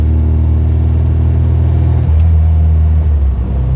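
A 1978 MGB GT engine accelerating in third gear, a steady mid-pitched rumble that shifts to a fuller, higher drone about two seconds in, heard up close from inside the car with no talk.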